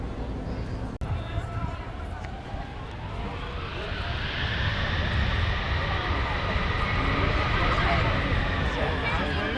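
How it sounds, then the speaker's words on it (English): An airliner's jet engines roaring in reverse thrust at an air show, a broad distant rumble that swells louder over several seconds, with crowd chatter underneath. "There's the reverse thrust, and if you look at the engines, you can see that black stripe around the nacelle."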